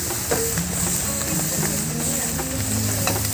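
Ginger and Chinese bamboo shoots stir-fry in a wok for chicken with ginger, browning toward golden. A steady, close sizzle carries on throughout, broken by repeated scraping and clacking stir strokes.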